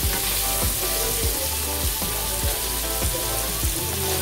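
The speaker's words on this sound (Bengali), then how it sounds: "এগুলো একটু লাল লাল করে ভেজে নেব" Salted paneer cubes fry in hot oil with a loud, constant sizzle, while a spatula scrapes the pan in regular strokes roughly every half second.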